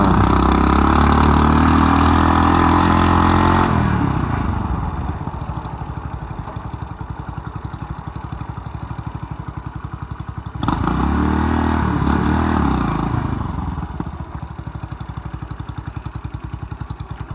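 A Superlight 200 motorcycle engine idles nearby with a steady low rumble, first loud, then dropping to a quieter putter, briefly swelling again before settling back to a lower idle.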